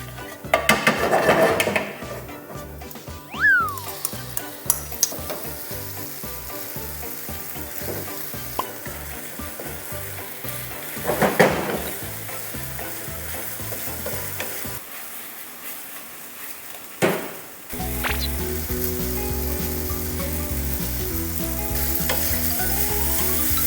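Marinated pork with black pepper stir-fried in a pan sizzles loudly and steadily, with a utensil scraping and clinking against the metal as it is stirred. The sizzle drops out briefly near the end, then returns stronger.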